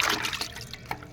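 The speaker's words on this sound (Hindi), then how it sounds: "इसमें और पानी मिला दो आप।" Water is added to a mixture of watermelon rinds for plant fertilizer, making close, soft splashing and dribbling sounds with a few distinct drips.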